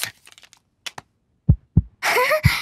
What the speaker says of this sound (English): Dr. Polar Bear can hear Peppa's heart beating.